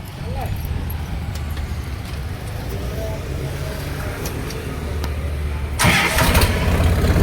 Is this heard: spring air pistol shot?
no